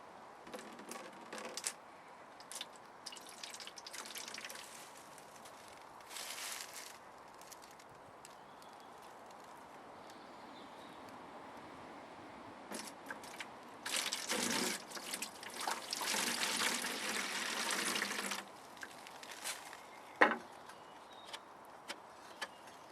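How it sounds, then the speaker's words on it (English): Fake blood for a cheap blood squib is poured into an empty container, a soft liquid trickle and splash that grows louder in bursts near the middle, with faint handling clatter and a sharp knock late on. "time to start pouring the fake blood into the container"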